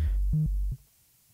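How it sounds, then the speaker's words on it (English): Teenage Engineering POM 170 modular synthesizer playing a short sine wave oscillator sequence: three smooth, low, loud notes in quick succession, the last one cut off, followed by near silence. "And finally, the sine wave."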